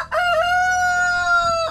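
A farmyard rooster crows loud and close, one long drawn-out cock-a-doodle-doo with clear harmonic tone, standing alone.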